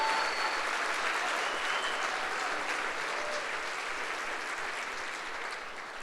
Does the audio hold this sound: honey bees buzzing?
no